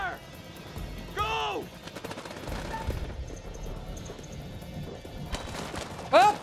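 Repeated gunshots and rattling automatic fire in the game House of Ashes as soldiers return fire at a ridge, with sharp crashes, while voices shout over the firefight.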